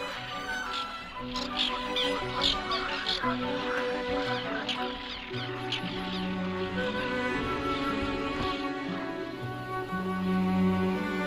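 Many birds call in the sunlit Biebrza marshes in Poland, wetland swamps rich with invertebrates, a busy chorus of overlapping chirps and calls over a steady ambient bed.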